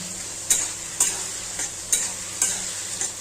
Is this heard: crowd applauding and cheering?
no